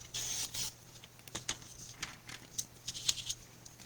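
Scissors cut paper for a Fourth of July sunburst scrapbook layout, giving a series of soft, quiet snips and rustles spaced irregularly over a faint steady hum.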